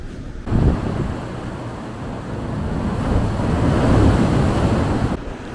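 Sea waves surge against a harbor breakwater on Korea's east coast in a continuous broad roar, swelling and easing, loud and close with wind buffeting the microphone and no talk.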